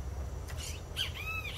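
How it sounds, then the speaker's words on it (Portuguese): Small birds chirping outdoors, short bright calls and a couple of rising squawk-like notes over a steady low background rumble. "Tendo contato com os passarinhos, ó."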